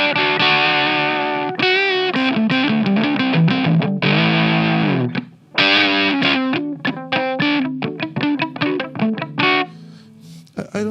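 An electric guitar plays through an MXR MC 402 boost overdrive pedal with the gain set high, giving loud, distorted riffs and sustained chords in choppy phrases with brief breaks.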